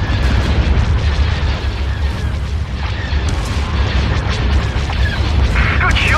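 Space battle in the Star Wars game Empire at War with the Fall of the Republic mod: ships fire weapons amid a continuous barrage of deep, rumbling explosions and blasts, with no gaps between them.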